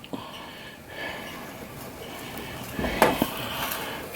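Gravy being worked in a pan with a spoon, with soft stirring and a few sharp clinks of the spoon against the pan, close by and fairly quiet.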